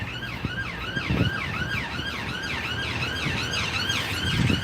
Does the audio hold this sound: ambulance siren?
yes